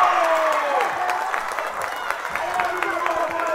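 Loud home-gym crowd at a girls' high school basketball game, Austin Lady Bulldogs against Hightower, cheering and applauding without pause after a made free throw, with a dense roar and some voices mixed in.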